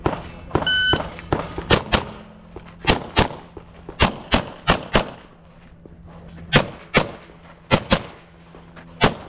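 Rapid pistol shots from an Infinity 2011 at a Limited-division shooting match ring out in quick bursts of sharp, loud cracks with short pauses between strings, about fifteen shots in all, no talking.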